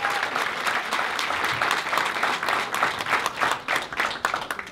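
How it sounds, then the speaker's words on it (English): An audience at a Puerto Rican Day Parade executive board event applauds steadily, a dense sustained patter of many hands clapping at moderate loudness throughout. "Please give a hard round of applause to Armando Aviles and the election committee."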